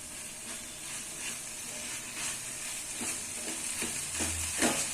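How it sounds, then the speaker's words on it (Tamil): Coconut and curry leaves saute in a hot pan for a curry leaf thuvayal, giving a soft, steady sizzle and hiss with occasional scraping stirs, heard close and without talk. "நல்லா வதங்கி வந்துட்டு இருக்குது."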